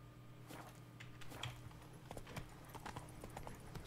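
Horse hooves clip-clopping at a steady riding gait in The Witcher 3 video game, soft and even, over a faint background hum.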